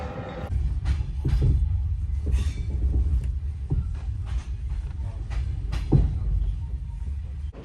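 A passenger train with sleeper compartments waiting at a Ukrainian station before boarding, a low rumbling idle with scattered clanks and knocks, fairly close and continuous.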